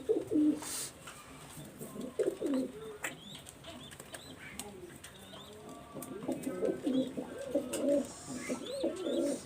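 Domestic Teddy pigeons in a loft with their chicks give soft, repeated cooing calls in short bursts. The sound is quiet and fairly close, with occasional wing flaps and a faint murmur of talk.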